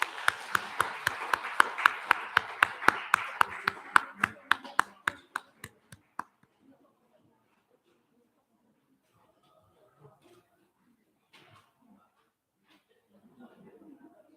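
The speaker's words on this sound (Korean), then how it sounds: "우리 이분들 감사의 박수 좀 할까요?" A Sunday worship congregation on Parents' Day claps in a steady, even rhythm of about twenty beats that slow and die out after six seconds, then near-quiet with faint rustling and murmurs.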